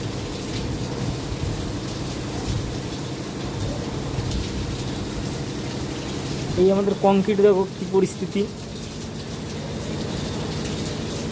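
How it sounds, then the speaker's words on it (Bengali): Heavy rain pours steadily onto a construction site where micro concrete sits in sacks, a constant broadband wash running throughout while a person talks briefly in the middle. "এই তো সেই বৃষ্টি হচ্ছে, খুব প্রচণ্ড জোরে বৃষ্টি হচ্ছে"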